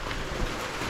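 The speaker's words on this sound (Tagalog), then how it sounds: "Bumalik yung ulan, pre." Heavy rain returns, a dense, loud, unbroken hiss of downpour filling the whole second with no talk.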